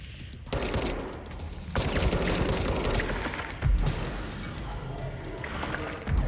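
Gunfire in the video game Control, with dense bursts of rapid shots and impacts forming a continuous loud clatter, and no voices.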